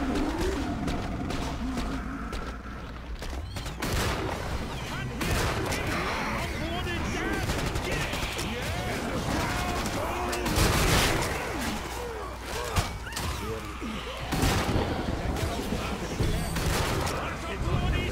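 Continuous Killing Floor 2 video game gunfire crackles in dense, rapid bursts throughout, loud and close, with someone talking over the shooting.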